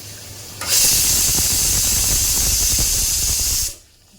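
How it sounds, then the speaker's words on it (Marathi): A pressure cooker whistle releases steam on a kitchen stove, a loud, steady hiss that bursts in suddenly, holds for about three seconds, then cuts off abruptly. "कुकरची शिट्टी झाली, गॅस बंद करायची."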